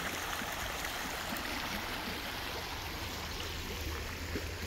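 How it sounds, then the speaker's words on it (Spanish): A flowing creek running steadily, a continuous broadband rush of water heard from nearby at a constant low level with no talking. "Miren, por aquí viene el arroyo"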